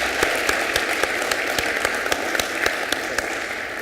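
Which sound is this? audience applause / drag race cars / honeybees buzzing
audience applause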